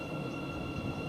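A Class 700 electric train eases into Royston station, a quiet, steady low rumble of wheels on track with a faint tonal whine above it, heard briefly without talk.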